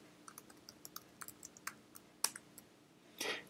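Keystrokes on a computer keyboard while entering Vim buffer-switching commands: a series of light, irregular clicks with a sharper tap and a brief clustered burst near the end, close and fairly quiet, no voices.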